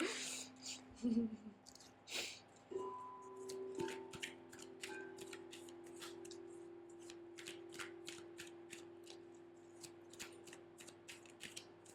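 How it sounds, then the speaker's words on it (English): Tarot cards shuffled by hand in repeated quick riffles and soft flicks, close and fairly quiet, with a brief voice early on. "I'll give you a real good birthday shuffle"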